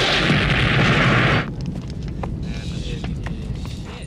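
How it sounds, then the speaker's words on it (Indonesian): A loud, roaring blast from a helicopter exploding in a film fills the first second and a half, then cuts off abruptly, leaving a quieter rumbling, crackling aftermath. "pendaratan dilakukan tepat sesaat sebelum pesawat meledak"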